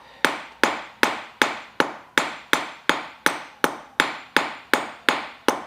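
A hammer lightly peening a copper rivet on a handmade copper coffee scoop, about thirteen crisp, evenly spaced metallic taps at a steady rhythm, close and clear with no talking.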